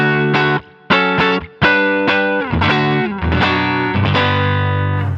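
Electric guitar played through a Line 6 Helix Princeton amp model with a compressor and EQ tilt block, ringing out loud chord strums and sustained notes in several bursts with short gaps, alone without talk.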